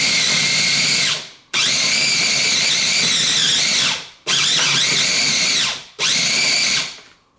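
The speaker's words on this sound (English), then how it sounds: "on this food processor, I'm going between chop and grind" Food processor switched between chop and grind settings while chopping mushrooms for stuffing, a loud whirring motor roaring in four bursts of about a second and a half each, with short silent gaps between them.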